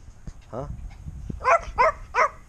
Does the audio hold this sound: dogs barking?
yes